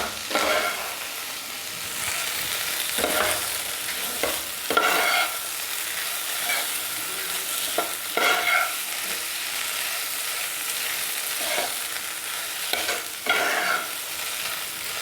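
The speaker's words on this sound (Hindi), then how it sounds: "और थोड़ा सा डालेंगे गरम मसाला और आलू को फ्राई कर लेंगे।" Potatoes frying with garam masala in a pan, a steady broadband sizzle with repeated scraping stirs every second or two, close and continuous, with no talk.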